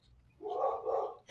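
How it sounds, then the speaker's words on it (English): A dog barks once or twice somewhere off at a distance, a faint muffled yap in an otherwise quiet room. "I hear my dogs."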